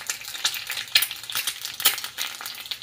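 An egg fries in a pan for huevos rancheros, giving a crackling, spitting sizzle with irregular bursts, close and fairly quiet with no voices.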